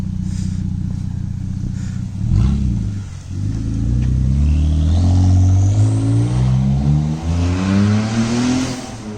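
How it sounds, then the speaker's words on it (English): Ford Taurus SHO running open stock downpipes revs hard close by, its engine note rising and falling through several climbing sweeps over about nine seconds, loud with no talk. "That really doesn't sound that bad. That's crazy that the stock downpipes are that restrictive."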